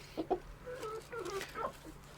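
Chickens cluck in short, overlapping bursts at close range, with soft pecking and shuffling beneath a steady low hum.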